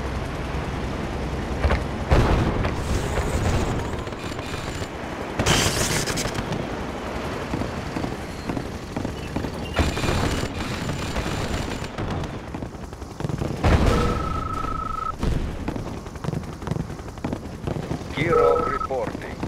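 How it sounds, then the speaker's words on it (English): Airstrike explosions and gunfire from Red Alert 2 roll on in dense, overlapping bursts and heavy booms, with a few short electronic tones and game voice announcements mixed in. "Airstrike confirmed."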